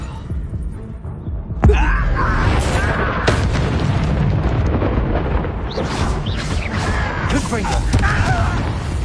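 Confringo fire spells and other combat magic in Hogwarts Legacy: several sharp blasts and booming bursts over continuous battle noise, with a person talking throughout.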